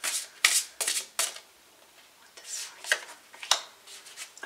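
New tarot cards are shuffled by hand in a series of crisp riffles and soft slaps, quick bursts with short pauses between them, close and clear.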